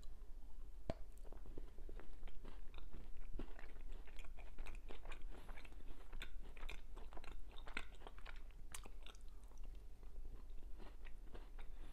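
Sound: biting and chewing a white chocolate strawberry cheesecake chocolate bar

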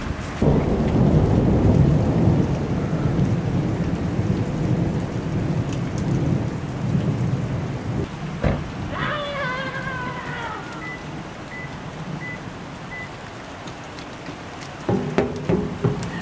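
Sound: thunderstorm with heavy rain

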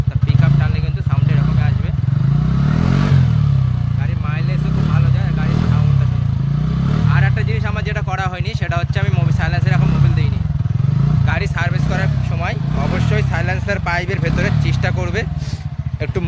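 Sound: vehicle engine running

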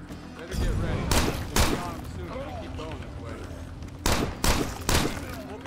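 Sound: gunshots in the video game State of Decay

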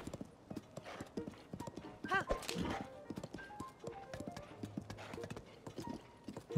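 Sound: horse hooves clip-clopping in video game Zelda: Tears of the Kingdom

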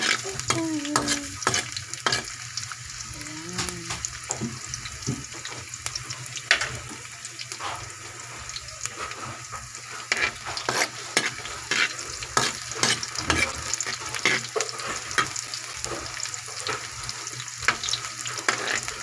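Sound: onions sautéing in a pan

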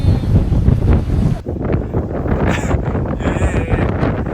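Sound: strong wind blowing

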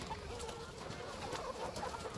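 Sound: chickens clucking while roosting in a trailer

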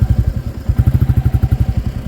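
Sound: motorcycle starting

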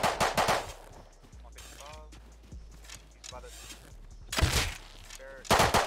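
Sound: gunfire in the video game Rust

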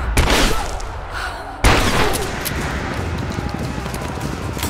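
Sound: gunfire in the video game Rise of the Tomb Raider

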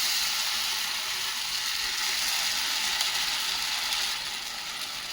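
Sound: poha uttapam batter sizzling in a hot pan

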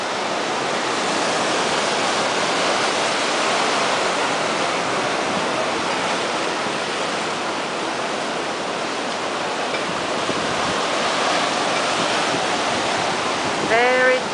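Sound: ocean waves at Bondi Beach, Australia

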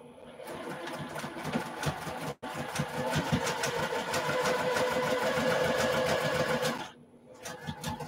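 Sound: sewing machine stitching a quilt sampler seam

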